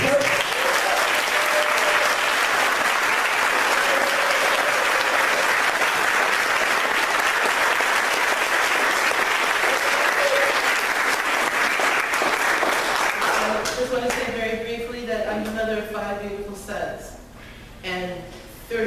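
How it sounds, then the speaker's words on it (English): A panel event audience gives a sustained round of applause, a dense, loud clapping wash that holds steady for about thirteen seconds, then fades as a voice begins talking over the tail. "So let's give them a round of applause"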